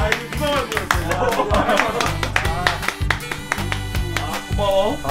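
A small group claps in bursts while people talk and laugh over it, celebrating a channel reaching 100,000 subscribers, the claps loud and close amid lively chatter.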